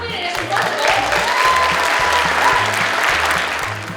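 An audience at a Wizard of Oz stage show applauds in a dense, steady wash of clapping, close and loud throughout.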